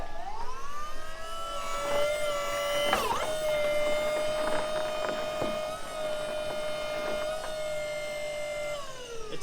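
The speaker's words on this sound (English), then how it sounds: "here's the fancy Volvo electric hydraulic power steering" A Volvo electric hydraulic power steering pump fitted to a Coyote-swapped Crown Victoria whirs steadily at close range, a constant high-pitched motor whine with harmonics that holds for several seconds before tapering off, with scattered clicks and knocks.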